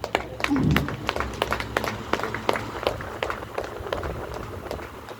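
An audience claps in welcome at a gathering, a dense run of sharp hand claps spread across the room, steady and moderately loud throughout, with a brief murmur of voices near the start.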